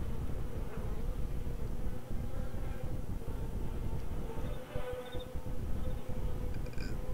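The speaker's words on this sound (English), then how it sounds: "The sound of flies is just... oh my god, that's overpowering." A dense, droning swarm of buzzing flies in the video game DayZ fills the whole stretch, loud and constant, with faint rustling beneath it.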